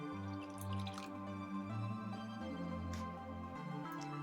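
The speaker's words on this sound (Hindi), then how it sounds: "साथ ही हम डालेंगे लेमन जूस आधा कप।" Half a cup of lemon juice poured into a dish of yogurt for a steamed chicken leg roast, a short close liquid splash and drip over a tonal background hum, with no talking.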